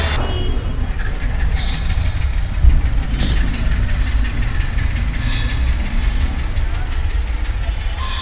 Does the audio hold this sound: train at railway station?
yes